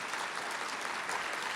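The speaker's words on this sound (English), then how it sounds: "give them another round of applause" An audience at a museum lecture series applauds the museum ambassadors, a steady, even wash of many hands clapping from a mid-distance with no talking over it.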